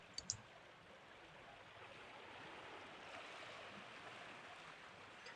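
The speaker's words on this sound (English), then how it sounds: "The only sound you hear is the crashing of the waves." Steady wave surf washing on a shore in Persona 4 Golden, a soft continuous wash with a couple of faint clicks at the start, no talking.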